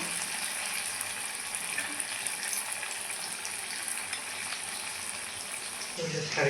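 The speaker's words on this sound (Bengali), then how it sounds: "যেহেতু আমার ছোট কড়াই, অল্প অল্প করে ভেজে নেব।" Semolina rasmalai balls frying in oil in a small wok, giving a loud, continuous close sizzle and crackle throughout, with a light clatter at the very end and no talking.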